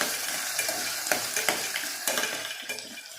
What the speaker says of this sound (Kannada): ಸ್ವಲ್ಪ ಆನಿಯನ್ ಮತ್ತು ಪೊಟ್ಯಾಟೊ ಎರಡು ಒಂದು ಸ್ವಲ್ಪ ಗೋಲ್ಡನ್ ಬ್ರೌನ್ ಆಗೋವರೆಗೂ ಒಂದು ಸ್ವಲ್ಪ ಫ್ರೈ ಮಾಡ್ಕೋಬೇಕು.